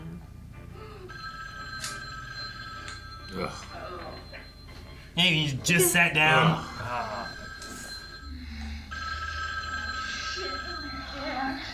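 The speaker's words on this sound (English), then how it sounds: "the phone keeps ringing" A telephone rings repeatedly in the 1978 horror film Halloween, steady electric bell trills heard through the movie audio, while viewers talk and react over it and a loud burst of shouting and laughter breaks in midway.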